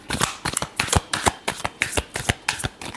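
Tarot cards shuffled by hand for a reading, giving a rapid, steady run of close, crisp riffling bursts with no voice over them.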